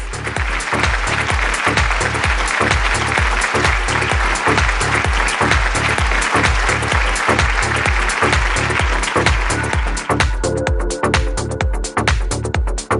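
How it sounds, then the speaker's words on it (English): An audience at a real-estate brand awards event applauds a winning company, sustained loud clapping from a large crowd with a rhythmic low thumping beat running underneath. "Let's have a huge round of applause for Krishna Enterprises."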